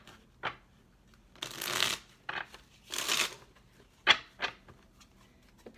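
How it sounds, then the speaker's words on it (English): A deck of tarot cards being shuffled by hand, several crisp riffling bursts separated by short pauses, close and clear with no talking. "All right, last shuffle."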